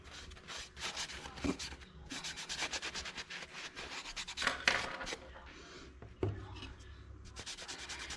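Latex paint on a bunny picture frame is rubbed to distress it, producing repeated soft scraping and sanding strokes in an uneven rhythm, close and fairly quiet.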